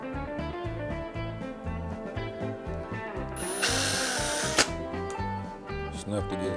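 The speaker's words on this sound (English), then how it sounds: "Then we're just going to drill some holes on a 16th inch bit." A power drill with a 1/16-inch bit whines and chatters steadily as it bores through wood for shop cabinet doors, with a louder grinding stretch partway through and people talking faintly underneath.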